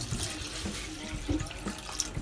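Chicken stock pouring into a cooking pot for jambalaya, a steady liquid splashing and trickling close by, continuous for a couple of seconds with no talking.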